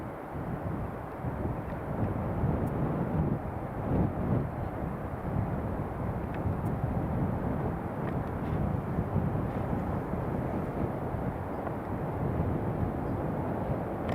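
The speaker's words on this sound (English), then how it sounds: "Ah, United is taxiing." A United Airlines airliner taxiing at JFK airport, a steady distant jet engine rumble blended with wind buffeting the microphone, continuous and without talk.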